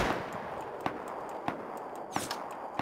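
Gunfire in the survival game Rust: a distant shot, then several sharp single cracks spaced about half a second apart, heard over a steady rushing ambient background.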